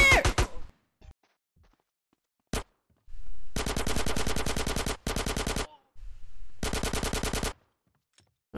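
Rapid automatic gunfire in GTA San Andreas, loud close bursts of evenly spaced shots separated by short silences, plus a few isolated single shots, with no talk.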